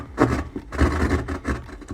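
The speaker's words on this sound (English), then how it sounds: "we'll use our drywall knife to punch into the wall and then cut until we hit the stud" A drywall knife punches into and saws through a closet wall's drywall toward a stud, giving close, rough rasping strokes in uneven bursts with no talking.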